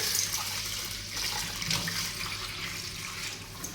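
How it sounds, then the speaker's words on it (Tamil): Pearl millet being rinsed in a vessel of water for a Tamil kambu koozh recipe, a steady wet sloshing and swishing of water and grain close up, continuous for a few seconds with no talk. "தண்ணி சேர்த்துட்டு நல்லா வந்து அலசி எடுத்துக்கலாம்."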